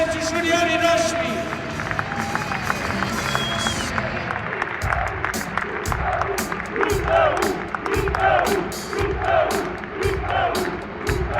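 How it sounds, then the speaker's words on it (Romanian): A crowd at a U Cluj club ceremony applauds and cheers the club's junior players with loud, dense clapping and shouts, settling into a rhythmic, crisp group clap, with an announcer's voice heard over the start. "Aplauze pentru juniorii noștri!"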